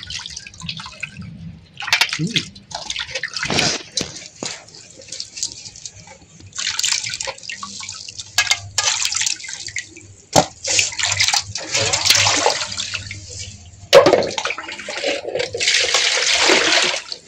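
Cut pumpkin pieces for chal kumrar murabba (Agra petha) being rinsed by hand in a basin of water, with repeated sloshing and splashing bursts and dripping, close by, with no talk.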